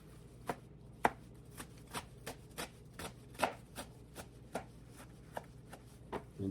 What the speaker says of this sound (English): So I will chop this fine.